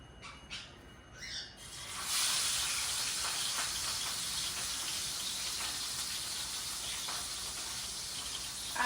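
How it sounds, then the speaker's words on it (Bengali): Katla fish belly pieces, three of them, frying in hot oil, a steady broadband sizzle that swells after a quieter start and then holds loud and even to the end. "আগে 3 পিস কাতলা মাছের পেটি ভেজে নিচ্ছি ডালের সাথে খাওয়ার জন্য"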